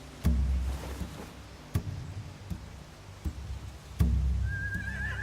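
Horses in The Walking Dead final season video game give a brief, distant whinny near the end, after a few dull hoof thumps.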